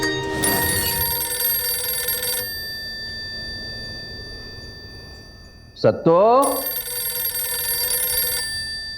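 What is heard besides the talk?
telephone ringing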